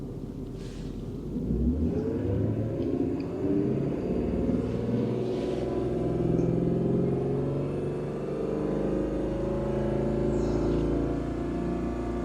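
A Jaguar XK8 V8 engine is revved up to about 3750 rpm and then let fall back, a deep, steady rising growl that holds and slowly decays, heard close with no talking.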